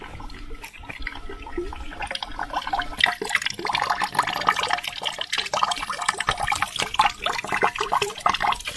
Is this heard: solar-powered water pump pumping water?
yes